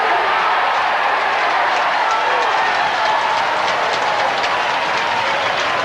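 A large football crowd at Leederville Oval roars steadily in a 1985 WAFL match between West Perth and South Fremantle, a continuous loud swell of cheering that holds for the whole stretch with no pause.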